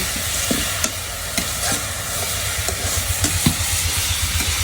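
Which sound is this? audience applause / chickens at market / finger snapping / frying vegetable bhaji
frying vegetable bhaji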